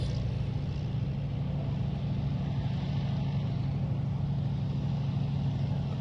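The Cirrus Hermes 115 horsepower engine of a black and orange Desoutter monoplane taking off, a steady low droning hum that stays fairly faint and distant throughout without any talk.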